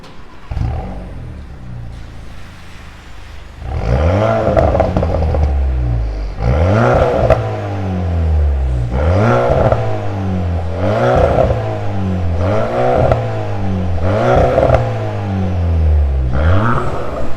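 Close, loud revving from a Volkswagen Golf 8 1.5 eTSI fitted with a remote-controlled valved exhaust: a steady idle, then about six sharp rev blips spaced roughly two seconds apart, each rising and falling back.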